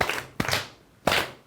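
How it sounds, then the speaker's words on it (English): A class claps for a student in a fixed pattern, giving two sharp claps close together and then a single clap after a pause, loud and near with no talking. "We are going to clap for Kim in a 2 factorial."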